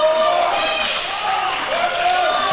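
Crowd at a men's classic weightlifting championship cheers and roars in a steady loud wash of voices with whistles and scattered applause, sustained throughout.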